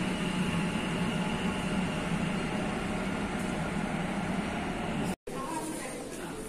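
A Kolkata metro train pulls out of an underground station, a steady loud rumble and hiss filling the platform for several seconds before a brief dropout, then the noise continues at a slightly lower level.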